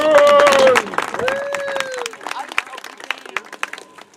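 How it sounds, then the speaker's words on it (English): Audience applause at a live comedy event breaks out in dense clapping and crowd noise, loud at first and then thinning into scattered claps, with a voice talking over it. "Give her a round of applause for God's sake."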